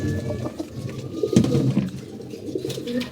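Pigeons coo repeatedly in a rooftop loft of racing-type pigeons kept in pairs with young, soft throaty calls overlapping in a steady murmur with some rustling, no speech.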